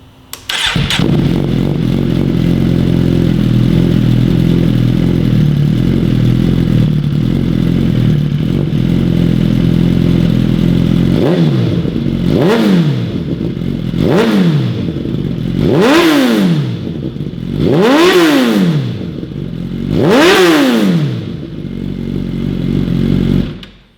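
A Suzuki GSXR sportbike with an M4 full exhaust system idles loudly and steadily, then blips its throttle in five sharp revs that rise and fall in quick succession, close and dominant with no talking.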